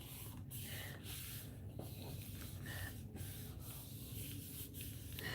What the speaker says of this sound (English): rubbing it from the back so you don't, scratch off everything